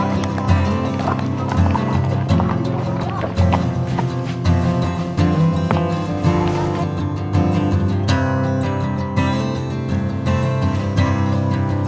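Horse hooves clip-clop in a steady, continuous rhythm during a ride, loud and close throughout, blended with a dense bed of other sound.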